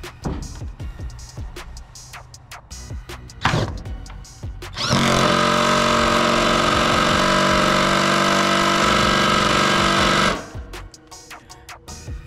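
A POPOMAN impact driver drives screws into a trailer deck, with scattered clicks and knocks before one continuous loud buzzing hammer burst lasting about five seconds, then quieter handling noises, close up with no talking.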